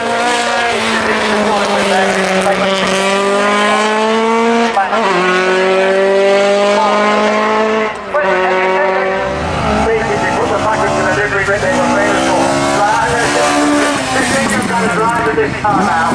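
A Ford Escort Mk1 rally car screams through a spectator stage, its engine revving loud and close with shifting pitch, tyres squealing as it slides, while a commentator talks over the noise.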